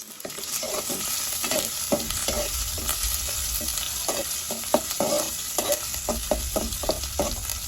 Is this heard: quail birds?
no